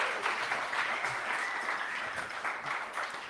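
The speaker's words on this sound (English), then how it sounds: "Give them a round of applause." Audience applause for medal winners at a live games talk event in Glasgow: steady, dense clapping from a crowd, moderately distant and sustained throughout without speech.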